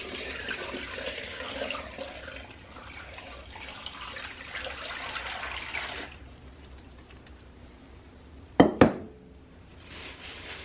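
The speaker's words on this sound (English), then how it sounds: "I'm going to fill it the rest of the way with water," Tap water runs into a pot holding a turkey, a steady splashing rush that stops partway, followed by two sharp clanks and then a quiet tail as the water starts again.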